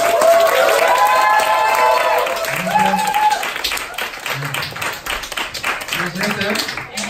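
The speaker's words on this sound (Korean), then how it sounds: "큰 함성과 박수로 모셔보도록 하겠습니다" An audience at a beauty creator academy event cheers and applauds loudly to welcome a guest speaker, crowd noise and clapping continuing throughout with voices mixed in.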